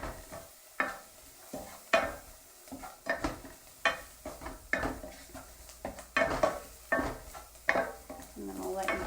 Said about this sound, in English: So I'll just give that a quick stir.